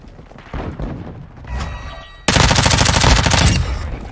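Gunfire in the video game Modern Warfare 2, with a few scattered shots followed by a loud, sustained burst of rapid automatic fire from close range that runs for over a second.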